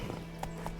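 Hooves of the horse in The Witcher 3 clop in quick, light steps with a brief whinny, close and moderately loud in a short game moment.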